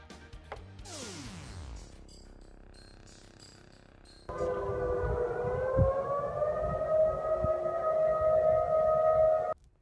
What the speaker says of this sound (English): Those were sirens out in Kodiak, Alaska earlier this morning. They were signaling a tsunami warning.